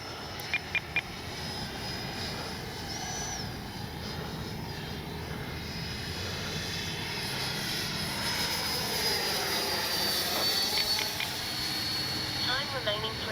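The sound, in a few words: FMS Integral 80mm RC jet flying at half throttle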